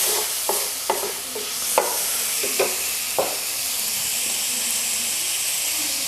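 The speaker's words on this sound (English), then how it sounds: "time for you to put the chopped onion" Chopped small onion frying in hot oil, giving a steady close sizzle with several sharp crackles and stirring clicks scattered through, no voices.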